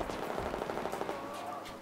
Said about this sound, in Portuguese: Tá tomando tiro, brother, aqui.